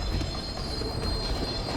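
A train runs in the video game Dishonored during the Dunwall City Trials Train Runner challenge: a loud, continuous rumble of rolling carriages with steady high wheel-squeal tones, heard alone without speech.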